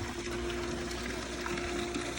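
Pond pump pulling water through a charcoal filter, a steady close rush of flowing water with a constant low mechanical hum underneath, unbroken for the whole stretch.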